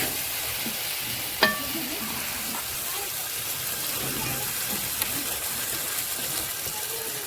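Chicken pieces going into a pan of ready gravy for rainbow chicken, giving a steady low sizzle and stir throughout, with one sharp clink early on and quieter scrapes later, no talk.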